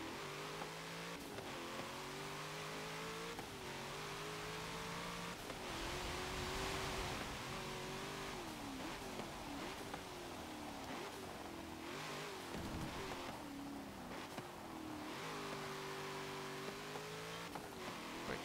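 A 2016 Cadillac CTS-V sedan is driven in Forza Motorsport 7 on a wet track, its engine revving up and down steadily through the gears with rising and falling pitch and no talk.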